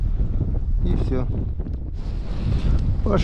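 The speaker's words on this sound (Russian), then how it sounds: "Мало еще ветра, блин, еще и дождь пошел." Gusting wind buffets an open outdoor spot on winter ice during ice fishing with under-ice setlines as rain begins to fall, a constant loud rumble of wind against the microphone with brief voice-like bits mixed in.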